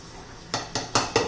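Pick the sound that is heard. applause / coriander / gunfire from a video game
coriander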